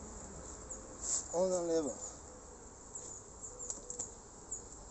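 Faint, steady buzzing of honey bees around beehives while a second super is added, heard from a short distance, with a brief voice speaking quietly over the hum.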